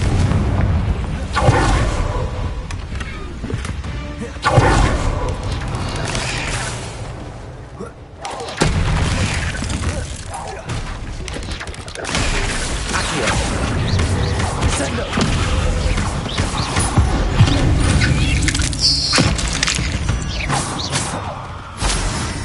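Confringo blasting spells going off in the Hogwarts Legacy video game, repeated booming explosions and crackling impacts layered over dense game sound and music that stays loud throughout.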